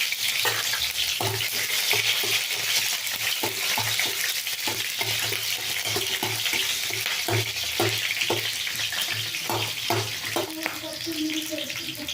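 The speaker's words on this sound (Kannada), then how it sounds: "ಫಸ್ಟು ನಾನು ಇದೆಲ್ಲ ಎಣ್ಣೆನಲ್ಲಿ ಫ್ರೈ ಮಾಡ್ಕೊಳ್ತೀನಿ" Chillies, coriander seeds, cumin and pepper fry in oil for a tomato rasam, giving a steady close sizzle under repeated rhythmic scraping and stirring taps against the pan.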